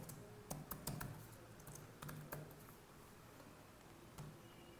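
Password keys tapped on a computer keyboard at an office email admin desk, a dozen or so quiet clicks in uneven bursts with short pauses, close and soft against a low room hum.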